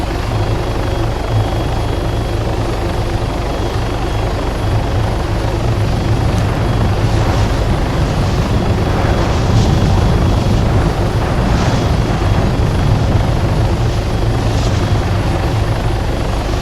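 A helicopter in the video game Arma 3 roars steadily throughout, with a dense, constant rotor and turbine drone, loud and close as the aircraft gains speed and maneuvers.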